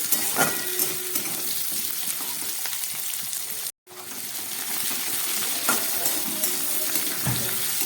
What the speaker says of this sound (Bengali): আলুটাকে একটু সামান্য ভেজে নিই